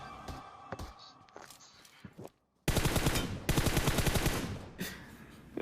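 Automatic gunfire in the mobile battle royale game Battlegrounds Mobile India: a few scattered shots, then two long, loud rapid-fire bursts, with a short silent gap just before them.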